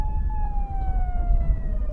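A police car siren wails steadily from close by, a continuous tone slowly falling in pitch over a low rumbling background with no talking.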